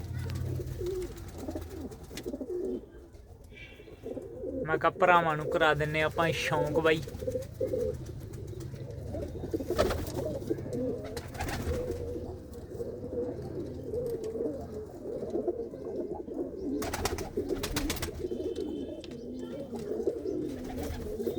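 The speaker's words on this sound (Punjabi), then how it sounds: "ਇਹ ਆਪਣੇ ਜੀ ਵੱਡੇ ਕਬੂਤਰ ਆ ਸਾਰੇ" Large pigeons coo in a loft among many birds, their low murmuring steady throughout while someone talks over them and brief higher calls break through midway.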